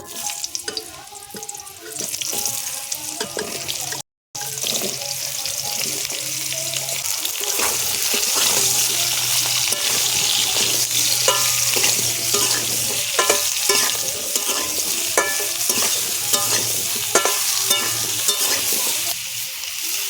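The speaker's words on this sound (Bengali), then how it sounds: "আলু ভাজা তেলে দিয়ে দেবো ঝিঙেগুলো" Ridge gourd and potatoes sizzle steadily in hot oil in a pan, a loud continuous frying hiss with occasional stirring scrapes and clatter over the top, and a brief dropout partway through.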